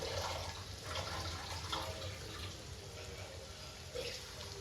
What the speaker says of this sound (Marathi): म्हणून मग ही छान घेतलेली अशी लौकी छान धुवून घ्यायची लौकी